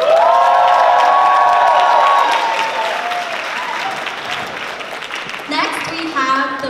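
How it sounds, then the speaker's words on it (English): An audience at the Binghamton University Miss Asia 2019 pageant bursts into sustained applause with cheers and whoops for a judge's introduction, while a loud voice carries over the start and another voice cuts in near the end. "please, give a warm round of applause as we introduce the first judge."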